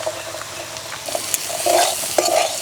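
Potato and cauliflower fried in a pan with roasted peanuts and peas, stirred with a spoon: a close, steady sizzle with scraping strokes and a few sharper clinks, no voices.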